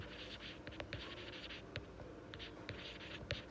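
Pen or marker writing notes during an audit lesson, a steady faint scratching with brief taps, alone with no talk.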